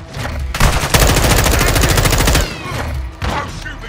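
Loud automatic gunfire in the video game Call of Duty: Modern Warfare II, rapid sustained bursts with short pauses between them, close and dominating the mix.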